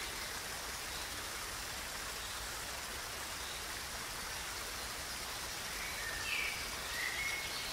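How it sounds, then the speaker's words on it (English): A gentle brook flowing in a meadow, a steady soft wash of water that continues evenly throughout, with a few faint bird chirps near the end. "The sound of a gentle brook catches your ear."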